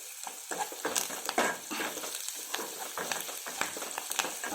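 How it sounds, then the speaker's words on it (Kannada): Cashew nuts sizzling in hot oil in a pan as kichdi is being prepared, with steady frying crackle and repeated stirring scrapes, close and quiet, no voices. "ಈಗ ಗೋಡಂಬಿ ಸ್ವಲ್ಪ ಫ್ರೈ ಆಗಲಿ"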